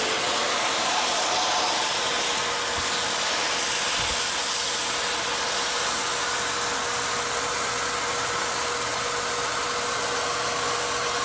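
An Intex PureSpa Plus 4 inflatable hot tub pump blows air through a hose, a loud, steady whooshing roar that holds unchanged throughout with no voices.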